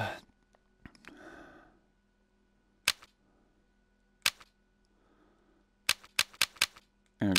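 Single-fire gunshots in the VR shooting game Gun Club VR: about eight sharp, isolated cracks, spaced out at first and then a quicker cluster of shots near the end, each one alone over near-silence.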